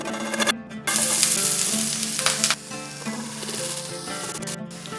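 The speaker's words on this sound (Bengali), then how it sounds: "সমস্ত জিনিসটাকে সতে করে নেব, তার জন্য প্রথমে দিয়ে দিচ্ছি পেঁয়াজ কুচি" Chopped onion sizzles and fries in a little hot oil in a pan, a steady close crackling hiss with occasional stirring scrapes.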